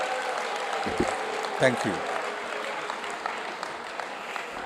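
Conference audience applause for a speaker rolls on as a steady, moderately distant clatter of many hands, with a few sharper nearby claps and a brief spoken voice over it.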